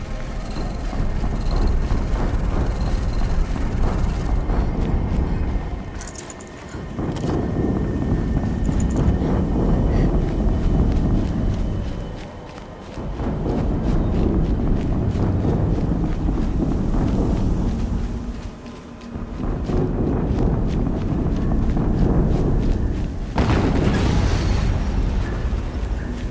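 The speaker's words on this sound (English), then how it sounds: "An explosion." Explosions rumble in the video game Horizon Zero Dawn as four long, deep booming swells, each fading briefly before the next rolls in, heavy and continuous with no speech.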